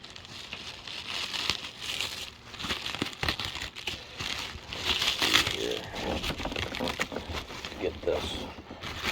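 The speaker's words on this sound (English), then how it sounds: "get this plastic off here, this little thing" Plastic wrapping pulled off the stamped sheath of a BPS HK1S knife gives a continuous close crinkling and crackling, with some rustling bursts and faint voice sounds mixed in.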